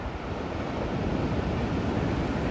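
Surf at Crescent Beach near Salt Creek rolls in steadily on a cold winter day, a continuous close roar of breaking ocean waves with some wind noise and no voices.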